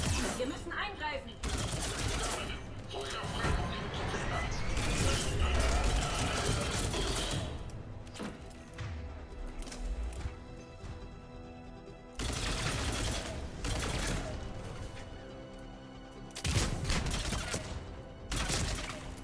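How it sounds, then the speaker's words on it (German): Bursts of automatic gunfire from a firefight in Mass Effect 3, loud and sustained with short pauses between volleys, mixed over game music and scattered voices. "Sie werden beschossen."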